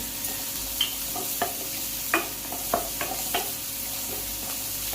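Onions and tomatoes sautéing in a pan for a Tamil egg curry, a soft continuous sizzle punctuated by regular scraping stirs of a spoon every half second or so.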